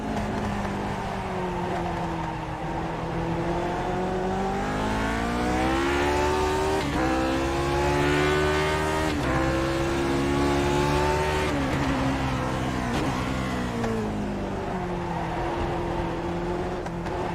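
Lotus 49 race car engine lapping Zandvoort in iRacing, a raw, continuous high-revving howl that rises and falls through gear changes and corners, loud and close throughout with no voices.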